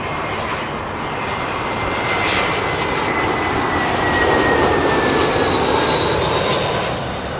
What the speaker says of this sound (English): British Airways A320, that's the little shuttle coming in from Manchester.